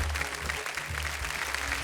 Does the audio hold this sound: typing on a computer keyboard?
no